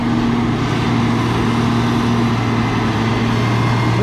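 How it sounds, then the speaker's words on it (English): A power shift tractor engine runs steadily during a corn silage harvest, a loud, continuous low drone with a constant hum and no change in pitch, close up and with no talk over it. "This is a power shift tractor."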